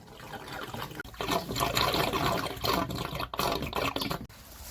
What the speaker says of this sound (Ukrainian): відкриваємо кран для того, щоб вода почала стікати